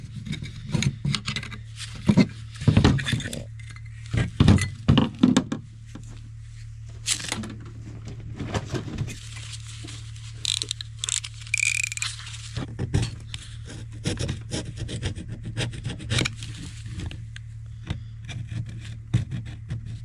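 Scraping an old gasket off a heater part, heard as repeated short rubbing and rasping strokes in irregular bursts, close and moderately loud over a steady low hum.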